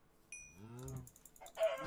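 Minecraft chickens cluck in a few short, bright game calls, with a higher squawk near the end; the sounds are close and fairly quiet, with no talking over them.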